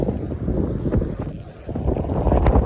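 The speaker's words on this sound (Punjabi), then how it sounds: "ਹਵਾ ਬੜੀ ਤੇਜ਼ ਚੱਲਦੀ ਹੈ" Heavy wind buffeting the microphone in rough, rumbling gusts, loud and close, rising and falling throughout, in a wheat field in Canada.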